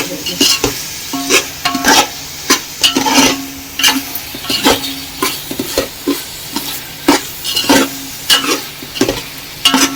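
Prawns stirred in a hot pan for prawn pulao, with steady repeated spatula scrapes and clinks against the pan over a sizzling frying background, close and loud.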